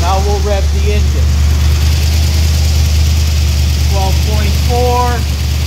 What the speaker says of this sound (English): Now we'll rev the engine.